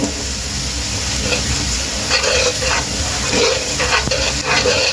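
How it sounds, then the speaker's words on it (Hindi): Garlic frying in a pan until lightly browned, for spicy chicken spaghetti, makes a steady close sizzle with a few soft stirring scrapes and clinks over it. "इसमें लहसुन हमारा हल्का हल्का ब्राउन हो गया, इससे ज़्यादा ब्राउन नहीं करना आपने।"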